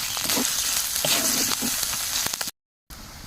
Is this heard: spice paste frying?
yes